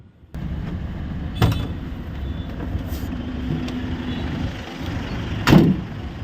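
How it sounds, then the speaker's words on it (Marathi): Highway traffic rumbles steadily along a road, with two vehicles passing close by in louder whooshes against a continuous low roar. "इथनं सगळं रस्त्यावर ट्रॅफिकच होतं."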